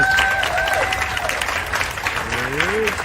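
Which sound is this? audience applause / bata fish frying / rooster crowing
audience applause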